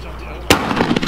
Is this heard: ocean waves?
no